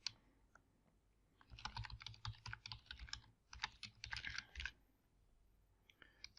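Typing on a computer keyboard: close, quiet bursts of rapid key clicks in two runs with brief pauses, a few isolated taps at the start and end, no voices.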